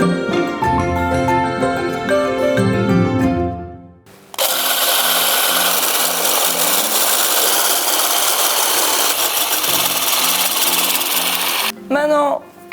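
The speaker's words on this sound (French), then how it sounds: "je vais pouvoir mixer comme pour les blancs en neige" An electric mixer whips chickpea water (aquafaba) into a foam, a loud steady whirring motor that starts after a musical intro and runs evenly for about eight seconds before stopping.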